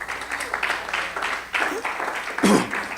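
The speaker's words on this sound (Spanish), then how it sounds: "Denle una ofrenda de palmas al Señor." Church congregation clapping during a worship service, an uneven rhythmic patter with voices and a shout rising over it.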